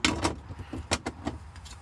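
Screw-off plastic storage compartment cover on a Yamaha Wolverine X4 side-by-side being spun loose, giving a short series of close, dry clicks and rattles spread over a couple of seconds.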